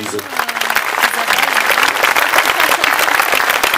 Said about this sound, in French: je crois qu'on peut applaudir tous les ingénieurs qui y travaillent